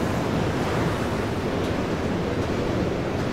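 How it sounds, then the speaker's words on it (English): Strong wind buffets the microphone while sea waves surge and break along the Dawlish sea wall in Devon, a steady loud roar of surf and gusts with no pauses throughout. "It's so windy"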